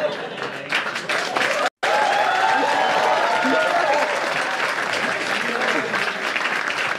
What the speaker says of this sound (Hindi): तो मैं आ गया भाई, तालियां बज गई